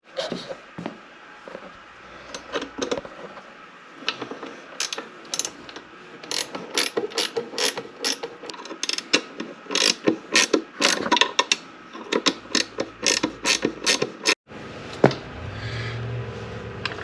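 Rapid ratchet clicking in uneven bursts as the airbox and carburettor come off a 1985 Honda CR250 motorcycle, close and crisp, with brief handling knocks and a low rumble near the end.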